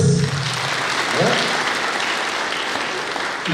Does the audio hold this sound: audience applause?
yes